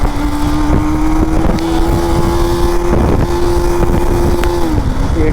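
KTM Duke 390 third-generation motorcycle in track mode accelerating hard in first gear, a steady loud engine drone holding pitch with brief dips, wind rush over the microphone throughout.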